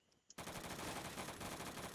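Light machine gun fire in the video game Phantom Forces breaks out after a brief quiet moment and becomes one long, loud, rapid burst of shots that continues to the end without a break.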